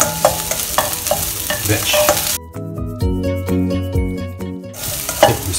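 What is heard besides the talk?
stir-frying mushrooms and vegetables in a pan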